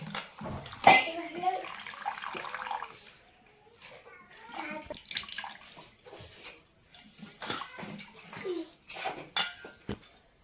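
Water splashing and running while kardai leafy greens are washed in a kitchen, with clattering of vessels and a voice talking quietly over the intermittent splashes.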